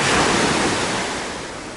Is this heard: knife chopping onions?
no